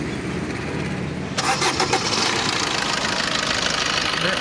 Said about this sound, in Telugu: వెహికల్ ఇప్పుడు బండి స్టార్ట్ చేసి చూపిస్తున్నాను